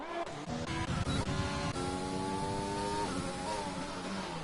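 A Renault race car in a racing video game revs up through the gears, its engine whine climbing in pitch and then holding a steady high drone, heard up close with no voices.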